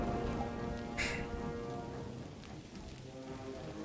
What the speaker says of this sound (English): all you can hear is the sound of rain plinking off of your helmet